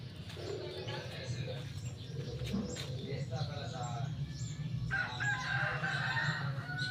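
Roosters crow among backyard chickens, rising calls heard under close, continuous conversation and farmyard noise, moderately loud.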